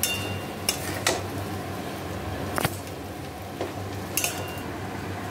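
Ingredients of bhola fish bharta are mixed in a pan over a low steady frying hiss, with a handful of spaced utensil scrapes and taps against the pan; no one speaks.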